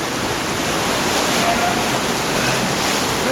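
Flood-swollen cave stream in Easegill rushing at a water spout, a loud, steady broadband roar of churning water filling the space without a break.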